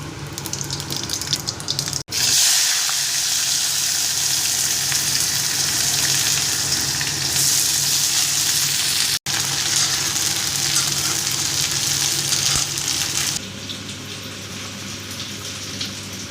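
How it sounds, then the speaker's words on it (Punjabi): Loud, steady sizzling and crackling of vegetables being tempered in hot oil in a pan, continuous and close, with a couple of brief cutoffs and a slight drop near the end. "ਇੱਧਰ ਚਾਹ ਰਿੱਝ ਰਹੀ ਐ ਤੇ ਦੂਜੀ ਸਾਈਡ ਆਪਾਂ ਸਬਜ਼ੀ ਤੜਕ ਦਿੰਦੇ ਆ"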